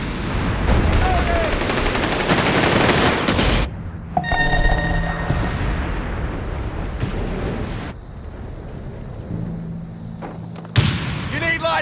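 Gunfire in the video game Company of Heroes 3, bursts of dense crackling shots and blasts separated by quieter stretches, with short ringing tones and clipped game voice lines mixed in.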